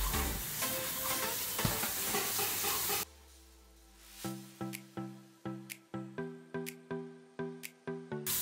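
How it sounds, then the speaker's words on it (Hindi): Masala of chili, cumin and coriander powder with salt sizzles loudly in a pan for a few seconds, then gives way to a series of sharp, rhythmic scraping strokes as it is stirred. "मसाला को अच्छे से कुक करेंगे."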